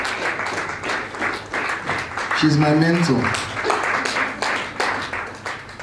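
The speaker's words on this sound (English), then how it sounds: "Please, let's keep clapping" Audience applause at an educators and maritime stakeholders roundtable and awards event, steady clapping heard under close talking voices that stay prominent throughout.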